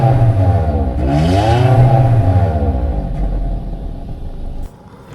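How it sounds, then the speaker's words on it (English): A Toyota Camry engine revs up and back down in a rising and falling sweep, loud exhaust roaring nearby before it drops to a quieter idle. "And when I give it a little bit of rev, this is what it sounds like as well."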